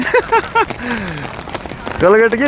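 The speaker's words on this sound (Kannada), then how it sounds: "ನಾವು ಚಿಕ್ಕ ವಯಸ್ಸಿನಲ್ಲಿ ನೋಡಿಲ್ಲ ಈ ಥರ ಮಳೆನ." Heavy rain pours down during a hailstorm as a dense, continuous hiss. People talk loudly over it throughout.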